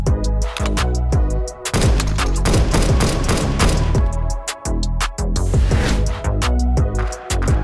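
Desert Eagle pistol fire in the video game CS:GO, shots ringing out loud and close in rapid succession, overlapping heavy booms with short gaps between bursts and no talk.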